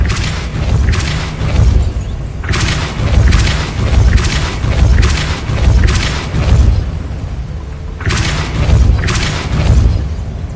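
Depulso force blasts in Hogwarts Legacy land as a series of loud, booming thumps, about five bursts roughly a second or two apart, each one close and heavy.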